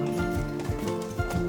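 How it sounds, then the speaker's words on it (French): Horse hooves clopping on cobblestone pavement in the rue de l'Étuve, Brussels, a carriage horse driven by a coachwoman; a few rhythmic close hoof strikes over a steady street background. "Elle aime le bruit des sabots sur le pavé"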